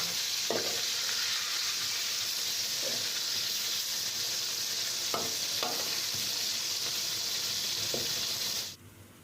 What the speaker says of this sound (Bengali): দুপুরে আম্মু বেগুন ভাজা করছিল